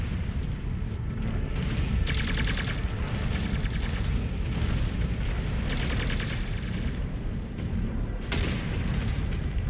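Mech weapons fire in battle in Mechwarrior 5: loud, rapid bursts of automatic gunfire recur several times over a constant rumble of heavy combat noise, each volley lasting about a second.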